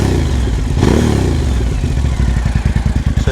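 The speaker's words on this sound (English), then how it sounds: "She just turns the engine over and it doesn't fire, it just slowly cranks." A TL1000R or ZX6R motorcycle engine turns over slowly on a weak battery without firing, giving a loud, close, sluggish rhythmic churning that grows more uneven and pulsing toward the end.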